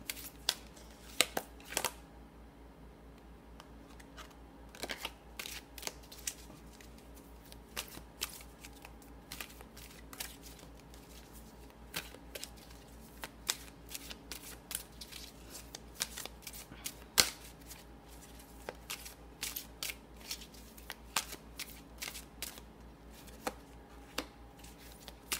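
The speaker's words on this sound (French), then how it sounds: "je vous laisse penser à votre question pendant que je brasse les cartes pour vous" Tarot cards are shuffled close up in a quiet room, a long run of soft riffling bursts and crisp snaps in an uneven rhythm with no talking.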